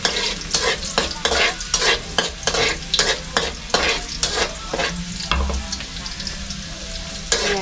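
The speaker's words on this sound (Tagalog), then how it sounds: "mainit na yung ating kawali. So, ilalagay na natin yung bawang" Garlic frying and being stirred in a hot pan for a chicken liver adobo, with a steady sizzle and repeated rhythmic scrapes of a spatula, close and fairly loud, no talk.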